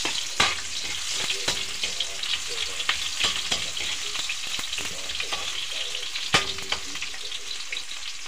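Onions fry briskly in a pan with garlic while octopus adobo is cooked, a loud continuous crackle broken by sharp utensil clacks and stirring scrapes throughout.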